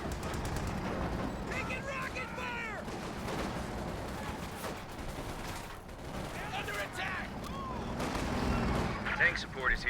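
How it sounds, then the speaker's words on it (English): Anti-tank gun blasts and scattered rifle fire from a Company of Heroes 2 battle, with repeated booming shots and crackling gunfire running steadily throughout under game voice lines and commentary. "Does get a good hit there with the AT gun"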